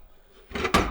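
A small wooden cubby door inside an insulated upstairs room comes loose, giving a short scrape followed by a sharp knock, close and fairly loud.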